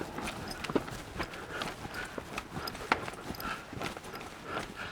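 Steady clip-clop of horse hooves on the ground, a moderate rhythmic trot with a few sharper thuds, fairly close.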